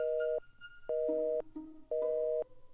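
A telephone busy signal sounds after the call drops: three steady, clean electronic tones, each about half a second long, with short silent gaps between them. No voices are heard.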